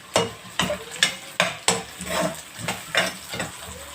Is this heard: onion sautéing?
yes